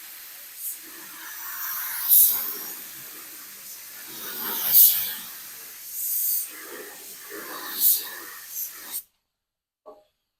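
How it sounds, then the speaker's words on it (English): A spray gun laying primer on automotive body work, with a steady airy hiss swelling into several louder bursts as passes are made, then cutting off abruptly near the end. "the way we're going to do this primer is we're going to start here and we're going to just do a nice coat"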